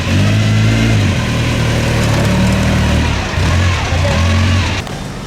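A historic Formula One car at the Monaco Grand Prix Historique runs loud and close, its engine note holding steady, dipping around the middle, then rising again before cutting off near the end.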